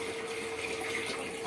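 Water gushes steadily from the outlet of a solar-powered motor pump into a tank, a constant rushing splash with an even hum underneath, no voices.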